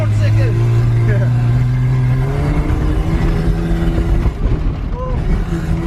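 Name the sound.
budget drift car accelerating in second gear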